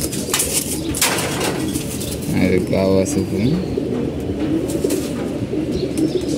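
Pigeons coo close by in a low, throaty run of repeated notes, with a few wing flutters, over background chatter and a brief voice.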